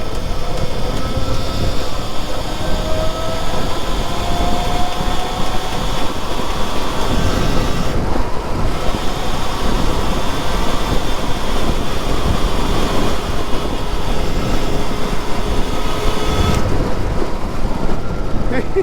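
An electric chopper motorcycle accelerates in second gear, a continuous loud whirring drive noise mixed with heavy wind rush, with brief dips as the throttle eases.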